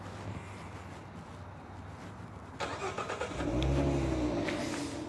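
A car engine is started remotely with a keyless entry transmitter in wintertime, catching partway through and settling into a steady idle at moderate, close range with no talking.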